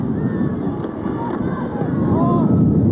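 Strong wind sweeps across an open football field during a 1993 college game between King's College and Wilkes University, a steady low roar buffeting the microphone for the whole stretch, with faint voices beneath.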